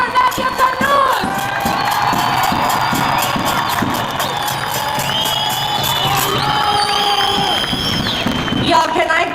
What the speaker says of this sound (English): please give a warm welcome and a warm round of applause to our last speaker, Nadia Tanouz